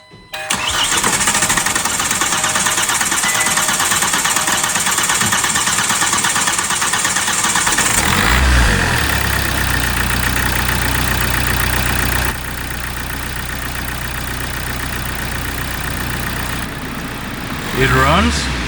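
A Kia Optima's 1.7L CRDi diesel engine, which has had an oil leak, is cranked and catches after a long whirring start. It then settles into a steady, close idle.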